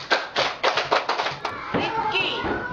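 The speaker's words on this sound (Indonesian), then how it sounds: "Ya, tepuk tangan." A quick run of hand claps, about eight sharp slaps in a loose rhythm, followed by a voice speaking.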